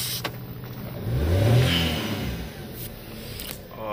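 A car engine while driving, a steady mid-pitched hum that swells into a louder rev and then eases off, close and continuous, with no talking.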